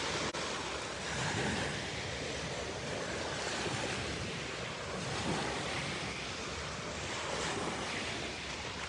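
Waves wash continuously onto the shore of the Sea of Galilee in soft, rolling surges under steady wind noise, with no voices.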